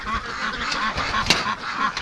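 Several breeding ducks kept in a snowy winter pen give repeated, honking quacks close by, a busy overlapping chatter with one sharp louder call partway through.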